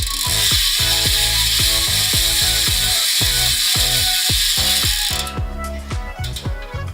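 A Colony Wasp direct-engagement cassette hub on a bicycle freewheels with loud, rapid ratcheting clicks that run evenly for several seconds, then slow into sparser clicks as the wheel coasts down.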